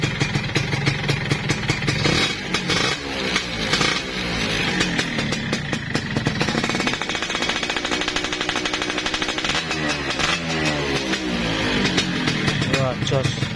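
A Honda C70 motorcycle engine runs steadily nearby, a loud, continuous rattling buzz with a few revs rising and falling, alongside voices talking.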